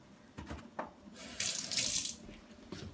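Water runs from a kitchen tap onto a counter in a short burst, a soft hiss rising and stopping after about a second, with faint handling knocks around it.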